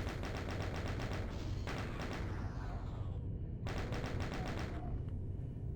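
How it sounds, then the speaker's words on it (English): Chaingun fire in Doom II, fast rattling automatic bursts in long continuous strings broken by short pauses, loud and close with no talk over it. "Last few snipers can chain gun down the rest."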